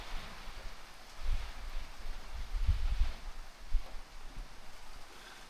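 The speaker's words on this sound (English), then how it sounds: "it's raining out here" Steady rain patters outdoors at Birchwood Station on the Te Araroa Trail, a broad continuous hiss with soft low thumps and gusts, with no voices.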